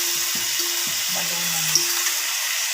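Chicken gizzards sizzle steadily in a hot pan for adobo, a continuous bright frying hiss with a few low clicks and knocks beneath it, close and fairly loud, with no talk.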